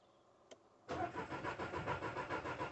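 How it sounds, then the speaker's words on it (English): A Skoda Fabia 1.2 petrol engine cranks without catching after a brief click, the starter churning in a steady rhythmic whirr, close and clear with no talk. "It's cranking but not starting"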